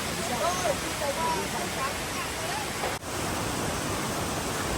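The Tumpak Sewu waterfalls in East Java roar as a steady, dense wash of falling water, loud and continuous. A voice talks over the sound.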